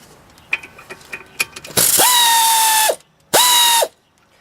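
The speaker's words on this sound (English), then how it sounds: "You can fully remove this lug bolt or spindle nut." A ratchet works the spindle nut on a VW Passat front axle, with a few light clicks followed by two loud, sustained whirring bursts, close up and alone.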